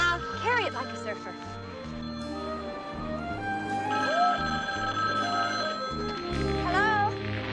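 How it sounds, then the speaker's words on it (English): A telephone bell rings in repeated bursts under overlapping voices and background music, fairly close and steady. "Hey, that sounds like a phone."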